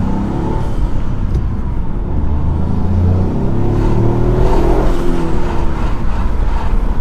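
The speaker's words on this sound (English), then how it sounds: "definitely a lot more boost, a lot more induction sound, and massive response. As soon as you do get on it, it's like a big whoosh." A turbocharged Toyota GR Yaris fitted with a PIRAS Motorsport airbox accelerates from inside the cabin, its loud engine rising in pitch through a rev sweep with induction rush and rumble, no talking over it.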